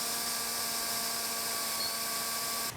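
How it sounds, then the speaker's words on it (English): A power sander fitted with a 1000 grit disc, sanding a hazy car headlight, giving a steady high-pitched whine that runs close and constant before cutting off at the end. "we're going to actually just start off with our 1000 grit sand disc"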